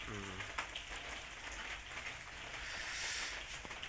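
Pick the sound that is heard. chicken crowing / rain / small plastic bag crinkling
rain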